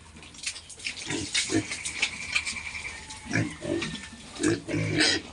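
Pigs in a farm pen with a palm-leaf (anahaw) thatched roof, grunting in short irregular bursts alongside some watery splashing, close by, with a voice speaking faintly now and then.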